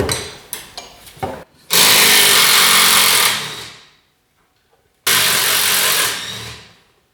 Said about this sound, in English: Now we're just going to unbolt the spindle assembly, also a 15.